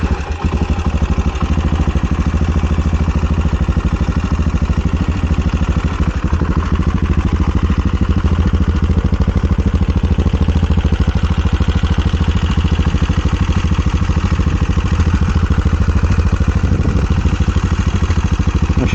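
An SWM Superdual X motorcycle engine idles steadily and loudly, a dense, even low rumble with a fine rapid pulse and light mechanical clatter, running without break or talk throughout.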